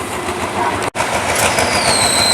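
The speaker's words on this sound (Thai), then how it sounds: "รถไฟก็คงจะต้องทำเวลาไล่คืนนะครับ ก็ต้องเร่งความเร็วนิดนึงนะครับ" Thai suburban train 341 on the Bangkok to Kaeng Khoi line runs at Chiang Rak Noi station with loud, steady rail rumble and clatter, a brief dropout, then a high squeal.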